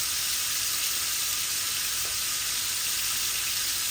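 Chicken sizzling in a hot pan, being cooked with shatkora citrus, a loud, steady, close frying hiss that continues without a break and with no talk over it.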